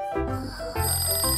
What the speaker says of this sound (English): The alarm's ringing!